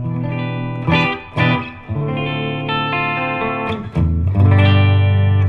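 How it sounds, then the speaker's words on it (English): Distorted electric guitar strumming sustained chords with a few sharp attacks, the tuning slightly off, played loud and alone, recorded on a GoPro Hero 11 Black. "Sounds like this guitar is slightly out of tune."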